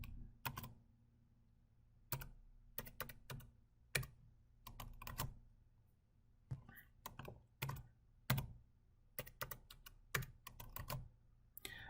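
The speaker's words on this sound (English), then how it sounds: "You need to type the password again." Keys on a computer keyboard tapped out as a password is entered, with short bursts of close, crisp clicks separated by brief pauses, over a steady low hum.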